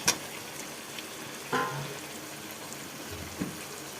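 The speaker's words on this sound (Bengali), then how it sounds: "মশলাটা কষানো হয়ে গেছে, এখন সেদ্ধ করে ছাল ছাড়িয়ে রাখা আলুটা আমি দিয়ে দিচ্ছি" Boiled, peeled potatoes go into a pan of fried spice masala, giving a soft sizzle with a few knocks and scrapes from the utensil, heard close and without talk.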